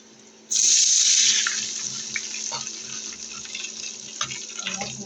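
Water gushes into a pan of fried onion with a sudden loud onset, then runs steadily with light splashing and a few small clinks.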